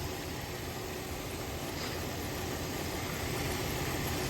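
A Mercury Zephyr car engine runs at high idle with a constant, fairly quiet hum and drone that holds steady throughout, with no one speaking.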